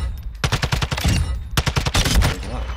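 An M4 rifle fires in Call of Duty MW2 DMZ: two loud, close bursts of rapid automatic shots with a short pause between them.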